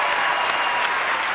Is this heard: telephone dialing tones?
no